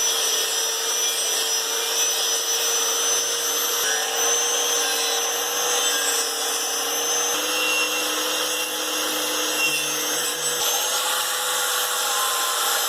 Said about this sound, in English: we're going to take the grinder with a wire brush attachment and brush off all this rust